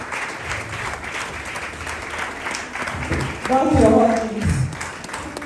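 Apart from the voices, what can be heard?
audience applause welcoming guest speaker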